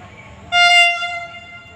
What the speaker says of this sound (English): a new train Vande Bharat is coming